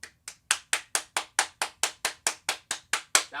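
A single person claps in a slow, even rhythm, about a dozen sharp, close hand claps spaced evenly with clean silence between each.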